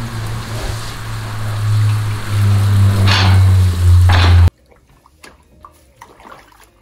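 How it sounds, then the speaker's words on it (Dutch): A hose sprays cold water onto the floor of a horse stable's centre aisle with a steady hissing spatter over a low hum, then stops suddenly, leaving faint drips and clatter. "doe ik het middenpad nog even een beetje nat spuiten, zodat er een beetje koud water op de vloer ligt"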